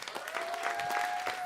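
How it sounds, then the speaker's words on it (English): Applause from an evening tech meetup crowd gathered near WWDC 2023, welcoming a guest from Women Who Code; steady, dense clapping from many hands held at an even level throughout, with a faint tone running underneath. "A big round of applause for Jody from Women Who Code"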